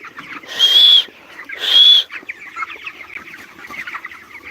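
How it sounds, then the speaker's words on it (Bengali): Chickens in a large poultry farm house give two loud, drawn-out squawking calls in a row, followed by a steady murmur of clucking from the flock. "দেখতে পাচ্ছেন কত বড় মুরগি হয়ে গেছে মুরগিগুলো"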